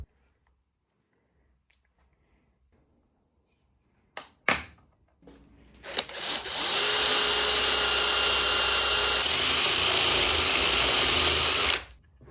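A drill bores into a stuck stud on a 1968 boat engine, first a few sharp knocks, then a sustained high whining grind that holds steady for several seconds before cutting off, close and fairly loud.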